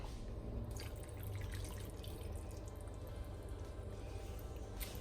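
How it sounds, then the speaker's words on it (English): Water poured into a pot of vegetable broth, a steady close-up trickle and dripping running continuously, soft and even, with no talking. "So I'm going to add in a little bit more water just to bring that up."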